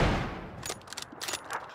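Sniper rifle shots crack out in a battle royale game, a loud initial blast followed by several sharp distant reports in quick succession, with no voices over them.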